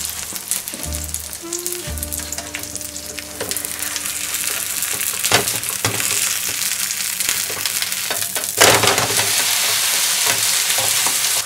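Kansai-style okonomiyaki sizzles steadily on a hot griddle, with scraping spatula strokes and a thump as it is flipped, followed by louder frying that carries on to the end without talk.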